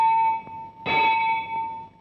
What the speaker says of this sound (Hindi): एक बंद मंदिर से घंटे की आवाज आ रही है।